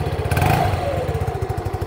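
A scooter with a sidecar idles with a steady, soft, quiet putter, its low pulsing rhythm even and close by, briefly swelling louder early on.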